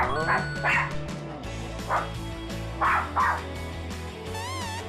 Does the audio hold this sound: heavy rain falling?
no